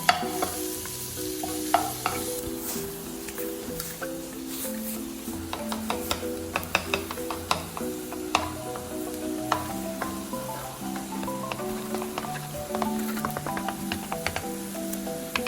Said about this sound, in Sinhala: බිත්තර දෙක මේ විදිහට හොඳට ස්ක්‍රැම්බල් කරගන්න ඕන